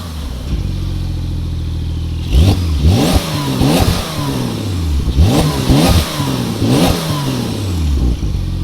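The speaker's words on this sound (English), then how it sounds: "Definitely tell the difference in the exhaust notes between sport and not sport" Porsche 992 911 base model in sport mode, its exhaust revving repeatedly in sharp rising-and-falling bursts over a steady idle, loud and close, with no talking.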